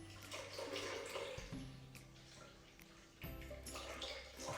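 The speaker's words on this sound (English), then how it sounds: "you need to add some warm water to your sourdough starter, almost the same quantities, about 270, 280 grams of that" Warm water pouring steadily into a sourdough starter in a kitchen, a continuous soft splashing trickle that shifts in tone partway through, fairly quiet throughout.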